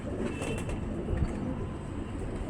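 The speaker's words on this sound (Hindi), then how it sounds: "ये उड़े हुए कबूतर दिखा रहे हैं इस वक्त आपको" Soft cooing of pigeons flying over the Old City, a low throaty murmur repeating against faint background noise.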